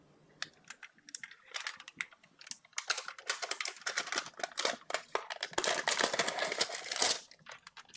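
Protective plastic film is peeled off a PC all-in-one liquid cooler, making a long run of close, crisp crackling and ticking sounds that build in density before stopping abruptly.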